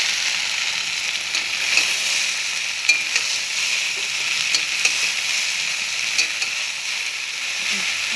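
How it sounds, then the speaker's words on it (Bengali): Taro stolons (kochur loti) frying in a pan with a steady, broad sizzle, punctuated by scattered clicks and scrapes of a utensil stirring at close range, no voices. "আমার কচুরলতিটাও ভাজা ভাজা হয়ে গেছে।"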